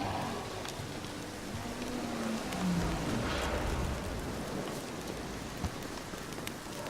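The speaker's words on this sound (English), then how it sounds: "Looks like rain." Steady rain falls in The Witcher 3 near the Whispering Hillock, a soft continuous hiss of drops with faint low rumbling and an occasional sharper tap, with no voices.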